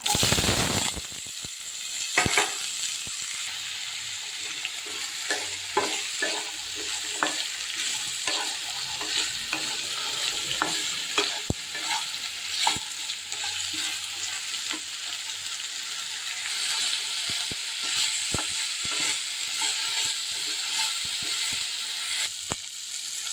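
Chopped potatoes, onion, carrot and green chilli fry in a pan, a continuous sizzle broken by frequent scraping and clinking stirs, close and steady with no talking.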